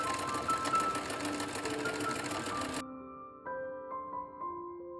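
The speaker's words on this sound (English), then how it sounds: "then sewed everything in place, again right sides facing as always" Home sewing machine stitching a gingham ruffle onto a skirt, running in a steady whirring buzz for almost three seconds before stopping, followed by soft tonal music.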